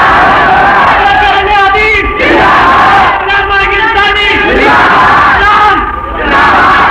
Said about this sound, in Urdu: توحید دا نعرہ اتنا اچا نا جتنا اچا تہاڈا خدا ہے